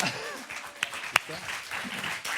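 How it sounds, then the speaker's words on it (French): A sparse, limp patter of studio audience clapping on a TV quiz show set, faint and thin, with a couple of sharper individual claps and murmuring voices around it. "Vous êtes applaudis très très mollement, les garçons."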